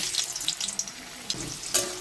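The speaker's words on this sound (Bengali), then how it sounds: "আমি আলুগুলোকে লাল লাল করে ভেজে নিচ্ছি" Potatoes fry in hot mustard oil in a pan with soft sizzling and crackling, light intermittent pops and a stirring scrape.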